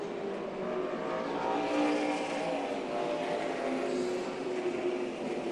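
NASCAR stock cars racing in the 2009 Southern 500, a steady broadband engine roar that holds at a constant level throughout, with several cars blending together at a moderate distance.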